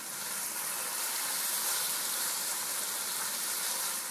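Chicken for a chicken tortilla fries in a pan with a dense, even sizzle that holds steady and fairly loud throughout, with no pauses.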